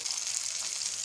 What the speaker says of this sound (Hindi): और इसी तरह मैं सारे कबाब फ्राई कर लूँगी।